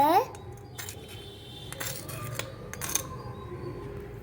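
Small metal clinks and light scraping come from a spoon mixing miniature pongal with fried cashews and raisins in a tiny pot. The sounds are close and soft, with a sharper clatter at the start.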